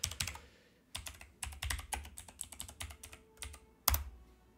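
Keys clatter on a computer keyboard as a console command is typed in the strategy game Victoria 2, with irregular bursts of close clicks, short pauses and a sharp final keystroke.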